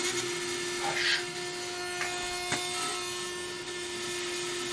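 A clothes dryer runs nearby with a steady droning hum and a constant tonal whine, plus a few faint knocks and rubbing sounds, under a continuous broadband noise.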